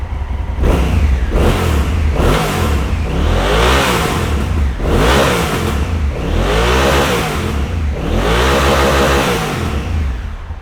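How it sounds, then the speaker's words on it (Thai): A used motorcycle for sale, free-start engine, runs close and loud, revving up in repeated surges roughly every two seconds and settling back toward idle between pulls. "เดี๋ยวเราฟังเสียงเครื่องยนต์กันครับ"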